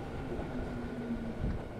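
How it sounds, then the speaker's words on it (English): A loud train rumbles past in Tokyo's Daikanyama area, a steady close roar with a faint squealing tone running through it and no speech over it. "sorry if the train's really loud"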